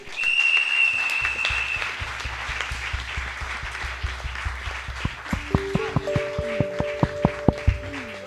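A church congregation applauds at a Sunday anniversary service, a loud wash of clapping that gives way to rhythmic beats and sustained tones, with faint voices underneath.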